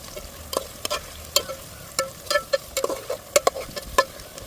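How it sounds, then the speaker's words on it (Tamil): Onions go into a pan of whole spices for crab biryani, bringing a quiet sizzle under a series of sharp, irregular spoon clinks and scrapes against the pan, close up with no talking. "வெங்காயம் போட்டுக்கலாம்."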